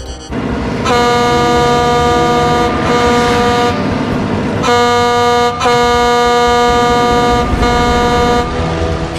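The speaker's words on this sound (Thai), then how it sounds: "ใครเขาบีบแตรไล่คนอื่นกัน" A loud truck air horn in an animated Transformers Prime scene, blaring in long sustained blasts with brief gaps between them, over rumbling traffic and engine noise.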